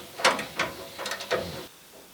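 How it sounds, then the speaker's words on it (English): Ratchet wrench working loose a rear bumper bolt on an abandoned 1966 Chevy Biscayne, several short close raspy clicking bursts in an uneven rhythm, then quiet. "Make sure your ratchet's going the right direction."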